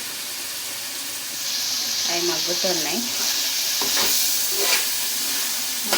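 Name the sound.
steam hissing from cooking pan after lid is removed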